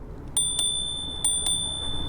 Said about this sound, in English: We have our brake and a bell.